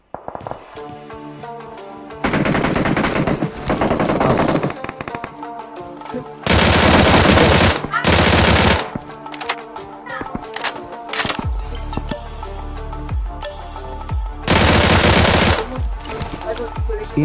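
Bursts of automatic gunfire in a video game team deathmatch, several loud rapid volleys separated by quieter game sounds and occasional voices.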